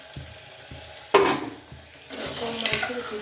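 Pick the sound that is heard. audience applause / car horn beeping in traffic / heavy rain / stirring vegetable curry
stirring vegetable curry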